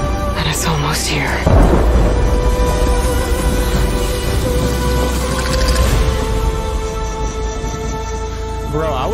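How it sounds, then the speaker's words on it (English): A rumbling thunderstorm rolls through the video game Horizon Forbidden West, deep booming thunder and steady rain noise filling the whole stretch, loud and continuous with game music tones layered in. "Said a storm was coming."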